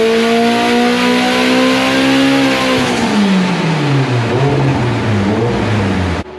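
A Mitsubishi Evo X on a hub dyno makes a power run, its engine revving hard and climbing in pitch, then dropping back as the run ends, loud and close with no talk.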